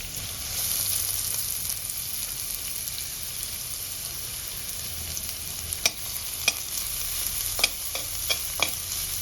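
Sliced onions and corn fry in a pan with a steady, close sizzle, and a few sharp clicks of the stirring spoon cut through near the end, with no voices.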